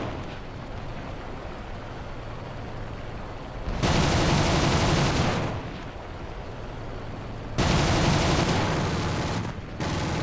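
Bf 109 G2 fighter cannon fire in the War Thunder flight game, two sustained loud bursts of rapid gunfire a few seconds apart over steady engine drone.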